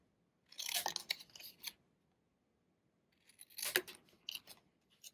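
Scissors cutting card stock for a handmade card make two short bursts of crisp snipping, each a quick run of close, sharp cuts separated by a quiet pause.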